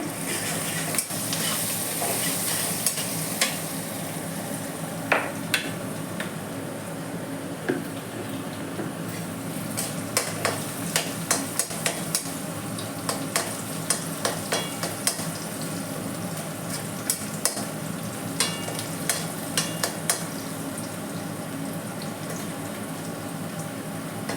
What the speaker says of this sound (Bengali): আমি পেঁয়াজটা ভাজা চাপিয়ে দিয়েছি আলুটাও ভেজে নিয়েছি দেখো